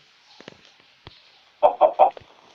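A few short clucks from a chicken in Minecraft, clipped and game-like, come in a quick burst of three after faint soft clicks.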